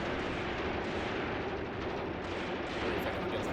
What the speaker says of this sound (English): Nice machine gun fire.